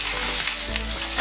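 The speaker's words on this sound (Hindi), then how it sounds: "ऐसे थोड़ी थोड़ी करके मेथी डालते रहेंगे और चलाते" Fenugreek leaves sizzle in a hot pan for paneer sabzi while a spoon stirs them, giving a close, loud frying crackle with soft scraping strokes and no voices.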